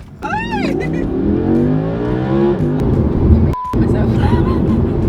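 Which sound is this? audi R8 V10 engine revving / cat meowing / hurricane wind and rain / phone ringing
audi R8 V10 engine revving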